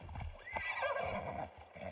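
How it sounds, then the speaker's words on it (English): A horse in Assassin's Creed Shadows whinnies loudly with a rising, wavering neigh, while hooves clop rhythmically underneath, close and clear. "you should probably call my horse"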